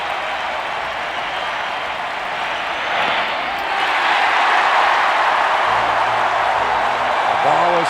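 Crowd noise fills a Minnesota baseball stadium during Game 7 of the 1991 World Series between the Braves and Twins: a steady, dense roar of cheering that swells louder partway through and stays high, with no talk over it.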